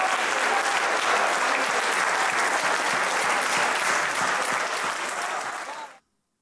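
Sustained, dense audience applause at a poetry mushaira, loud and steady for about six seconds before cutting off abruptly, with no speech over it.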